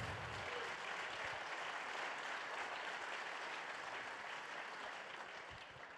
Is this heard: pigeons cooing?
no